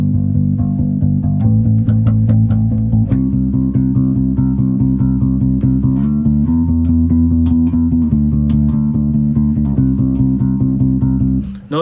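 A bass guitar plays even eighth notes in steady time, with clear, evenly spaced plucks that move through a few pitch changes. The playing is loud and close, with no talking.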